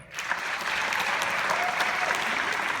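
An audience applauds at the United Palace theatre before a screening of the 1947 Miracle on 34th Street. Dense, steady clapping from many hands fills the hall throughout, with a few faint cheers.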